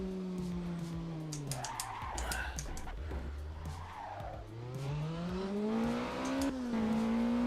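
A race car in the VR racing sim Assetto Corsa accelerates hard on a loop track, engine tone rising and falling through gear changes, with tire squeal and skidding mixed in, sustained and fairly loud.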